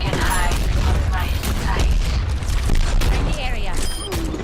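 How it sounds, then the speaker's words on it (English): Pharah's rocket barrage in Overwatch bursts as a dense, loud volley of explosions and mechanical clatter amid busy combat, with a voice talking over the din. "just for myself to get set up for this rocket barrage"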